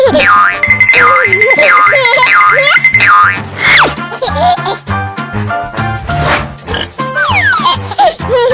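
A small farm pig oinks and squeals several times amid bouncy cartoon music and springy sound effects, the calls loud and close.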